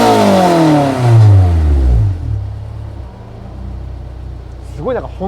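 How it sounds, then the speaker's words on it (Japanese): A Honda S2000 AP1 with a J's Racing exhaust (silencer removed), aftermarket headers and air intake revs loudly, the pitch sweeping down and then settling into a deep, rumbling idle as a voice begins talking near the end. "これ今サイレーサー取っちゃってるからサイレーサーないんで結構うるさめですけれども"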